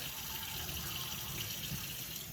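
Tap water runs steadily into a sink while rinsing vegetables, a constant hissing splash with no talking.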